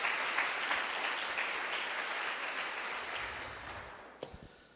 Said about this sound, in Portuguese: Aplauda ao Senhor, bora.